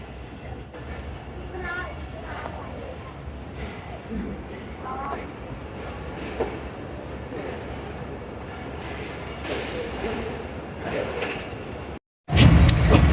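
The Shalimar Express pulls out of Lahore Junction station with a low, steady rumble and rattle of rolling carriages, someone talking over it, before a brief cut to a louder burst of noise.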